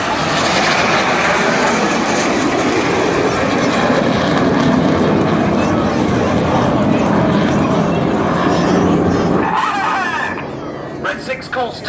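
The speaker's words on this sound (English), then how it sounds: "The pilots put full power on the jets, turning away from us now" Red Arrows jets at full power during an air show flying display, a loud continuous roar sustained throughout before dropping away near the end, with a commentator talking over it.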